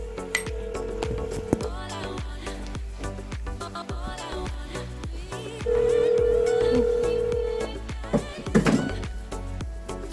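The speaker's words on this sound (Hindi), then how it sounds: "भैया को फ़ोन लगाया" A phone call's ringing tone during a family Bhai Dooj celebration at home, steady electronic tones with gaps between them, close and clear amid some clinks of dishes.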